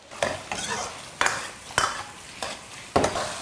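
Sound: stir-frying bamboo shoots with oyster sauce

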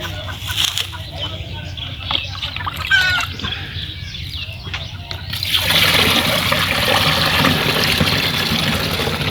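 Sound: water being poured into a pesticide sprayer tank

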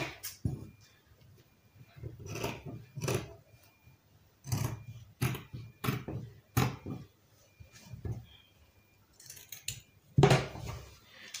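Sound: scissors cutting tulle dress fabric

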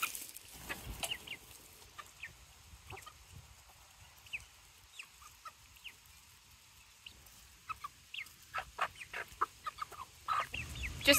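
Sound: chickens clucking while eating scratch treats

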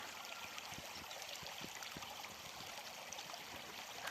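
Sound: small mountain river flowing

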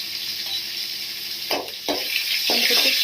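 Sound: garlic sizzling as it is added to hot oil

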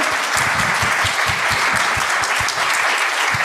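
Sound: audience applause

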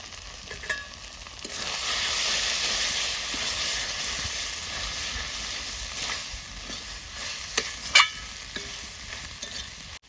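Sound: stirring cauliflower stalk curry in a pan

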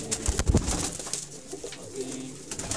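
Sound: pigeons cooing, Teddy golden Rampuri breeder pigeons

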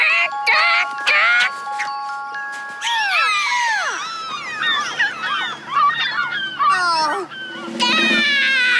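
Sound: hawk call played as a sound

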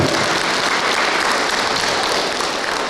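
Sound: audience applause at judo master class

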